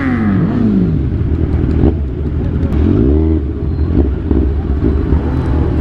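Motorcycles ride along a road, with engines revving and rising in pitch as they pass close by, one after another, over a constant loud rumble of traffic.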